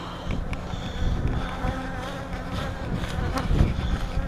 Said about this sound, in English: Buzz, buzz, buzz. Here goes a swarm.